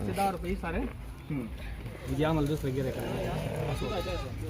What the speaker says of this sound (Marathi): तीन तीन दुधाच्या शेळ्या आहे